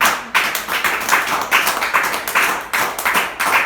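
A church congregation claps together in a steady rhythmic beat, about two claps a second, loud and full across the room, with no voices over it.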